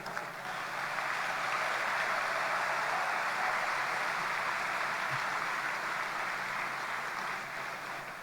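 Steady, dense applause from a large audience fills the hall throughout at a constant level, with no speech, at the launch ceremony of Malaysia's National TVET Day 2025.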